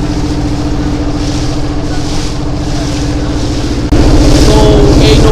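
Motor trawler boat chugging through river waves on the Shitalakshya River, with a loud, close, steady rhythmic engine throb and water wash that grows a little louder near the end, no talking.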